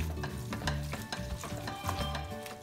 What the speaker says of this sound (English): And then we just stir.